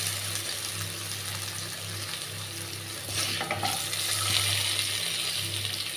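Potatoes with sugar are stirred in a pan with a metal spatula, giving a constant hissing fry with a soft scraping swell midway.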